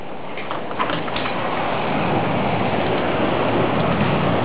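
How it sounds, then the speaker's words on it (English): Heavy rain pours steadily during a thunderstorm, a dense, constant hiss of downpour that stays loud and unbroken throughout, with no voices. "There you can see the thunderstorm and the rain. It's raining a lot."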